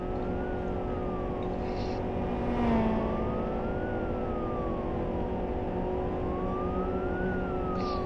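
A police car siren in a Turkish driving game played on a Logitech G29 wheel, wailing up and down steadily over a constant engine drone, fairly close and prominent.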